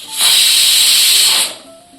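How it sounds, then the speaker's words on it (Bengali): A pressure cooker cooking khichuri lets out a single loud, close hissing burst of steam lasting just over a second, then drops back to near quiet. "প্রেসার কুকারে ঢাকনা বন্ধ করে 2টো সিটি দিয়ে দেব"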